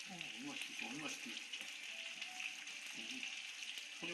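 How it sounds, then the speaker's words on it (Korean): Food sizzles steadily in a hot pan, a constant hiss and crackle, with voices talking intermittently over it. "소리가 지글지글."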